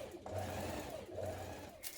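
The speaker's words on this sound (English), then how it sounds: "you're going to stitch this seam again, this time 1 centimetre above the seam" A domestic sewing machine stitches an elastic casing seam on a child's dress, running in two steady bursts with a brief pause between, close and clear with no talk.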